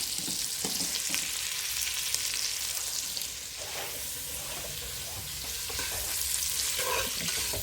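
Seafood gumbo frying in a pot as a spoon stirs it, a steady loud sizzle with scraping strokes and a few clinks running throughout, no voices.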